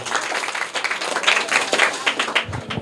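Audience of schoolchildren and adults at a Bihar general-knowledge quiz gives a quiz winner a burst of loud, close, uneven clapping that stays steady throughout.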